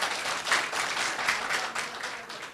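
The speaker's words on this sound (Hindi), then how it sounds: "तो आप लोग तालियां बजाएं इनके लिए।" Steady audience applause at a government outreach event in Bahraich, Uttar Pradesh, many hands clapping together in a dense, even patter that holds for a couple of seconds before tapering off.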